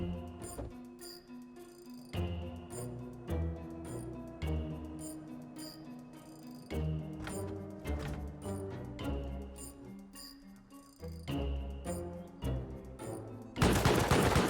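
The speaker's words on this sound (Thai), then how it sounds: "ผมโดนป้อมปืนยิงแล้ว" Rapid bursts of automatic turret gunfire strike the player in a Thai survival video game, repeated volleys with metallic clinks running steadily throughout, closing on a loud harsh burst of noise.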